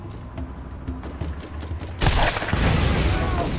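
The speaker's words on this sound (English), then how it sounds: "Stop shooting!" Gunfire in the Borderlands video game: scattered shots give way to a dense, loud burst of rapid fire and booming impacts that fills the second half, close and continuous.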